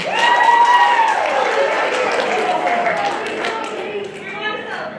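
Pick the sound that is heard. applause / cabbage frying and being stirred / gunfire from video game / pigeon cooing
applause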